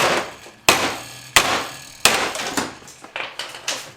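Sharp, ringing metal-on-metal strikes of a hammer driving a chisel while working on a Mitsubishi Evo 8, four heavy blows spaced under a second apart, then a run of lighter, quicker taps, close and loud.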